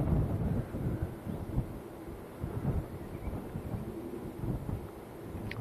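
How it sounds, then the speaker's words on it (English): Cold wind buffets a microphone at Manchester Airport, a rough, gusty low rumble that rises and falls unevenly across the whole stretch, close and fairly loud with no speech. "Stood here in this wind, in the cold."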